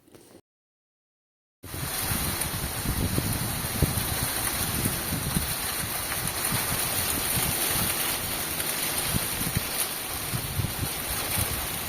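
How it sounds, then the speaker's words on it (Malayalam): Rain, snow and hail fall outdoors in an Irish garden, a steady, dense hiss of precipitation that starts abruptly after a short gap and continues evenly and loudly throughout, with no voices. "ഈ പെയ്യുന്നത് മഞ്ഞാണോ മഴയാണോ അതോ ആലിപ്പഴമാണോ എന്ന് തിരിച്ചറിയാൻ പറ്റുന്നില്ല."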